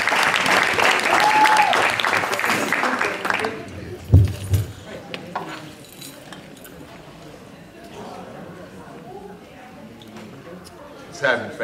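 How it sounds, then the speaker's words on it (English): Audience applause from a crowd welcoming a keynote speaker at an evening community event in Camden, loud and sustained for about three seconds before tapering into scattered claps and room murmur. "So I want you all to give a warm, candid round of applause to Jitu Brown"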